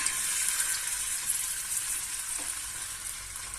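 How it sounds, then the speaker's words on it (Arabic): Ghee melting and heating in a pan for chicken with vegetables, a steady close hissing sizzle that runs unbroken throughout. "هاي دابت لينا السمنه، نتسناوها شويه تسخن"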